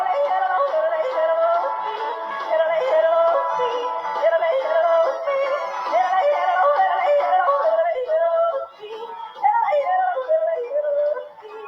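A yodeler sings with a warbling, fast-flipping voice in a continuous, fairly loud phrase that breaks briefly near the end before resuming, heard alone with no talking.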